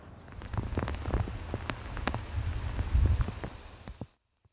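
Steady rainfall patters on hard surfaces nearby, a dense moderate wash of drops with scattered sharper splashes, ending abruptly.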